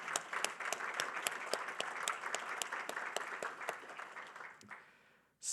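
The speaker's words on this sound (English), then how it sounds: "Let's give them a round of applause." Applause from a rail summit audience after sponsors are thanked, a steady patter of many hands with a few sharper claps standing out, tapering off and ending abruptly near the close.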